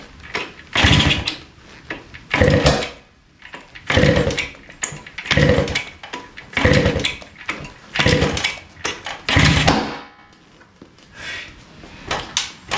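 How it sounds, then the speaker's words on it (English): A 1974 Yamaha DT175 dirt bike engine with a timing fault, backfiring and revving in about seven loud, rough bursts roughly every 1.5 seconds, close up and alone. "This is backfiring bad."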